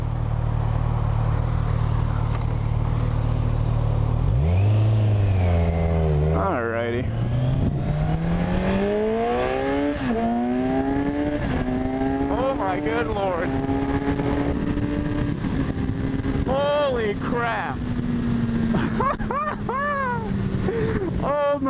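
A 2014 Kawasaki Z1000 motorcycle idles loudly, then accelerates through several gears, its engine pitch climbing and dropping with each shift, wind rushing, and a rider talking over it.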